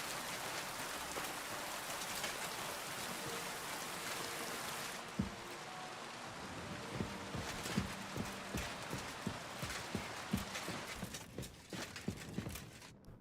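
Steady rain hisses across the scene of a video game. It cuts off partway through, and a run of hollow clip-clop hoofbeats or footsteps carries on over a quieter background.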